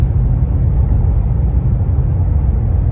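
Manual-transmission car driving on the road, its steering wandering, giving a steady, close, low engine and road rumble that holds even throughout with no voices.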